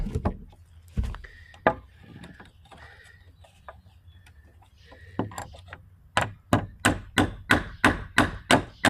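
Sharp wooden knocks, a few scattered at first, then a quick regular run of hammer taps on wood during a Trex deck build, fairly close.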